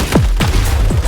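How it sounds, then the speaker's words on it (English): Sweeping, descending whooshing booms in Genshin Impact, three heavy blasts in quick succession over a steady low rumble, loud and close. "We're gonna have to shoot that thing, won't we?"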